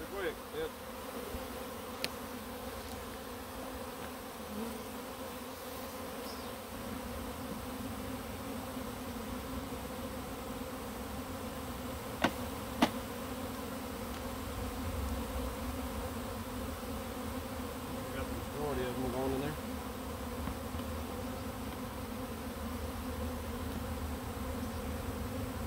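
A large swarm of gentle honey bees buzzes loudly and steadily as it is moved into ten-frame hive boxes, a dense continuous drone with no talk over it.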